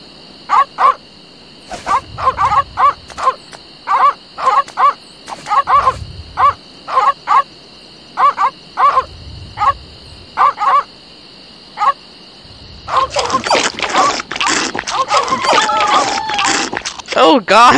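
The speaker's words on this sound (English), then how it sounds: "Deadly piranha poodles." Piranha poodles in The Secret of Monkey Island video game give repeated short synthesized barks in an even rhythm against a steady electronic tone, ending in a dense burst of louder yapping.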